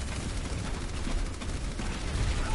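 Dense, continuous gunfire in Overwatch, a rapid rattle of shots with booming low thuds, loud and sustained with no pause.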